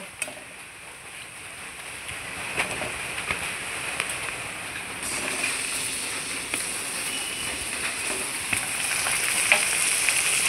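Chicken meat hits a pan of golden-fried onions with a steady, close sizzle and crackle that swells louder about halfway through, continuing without any talk.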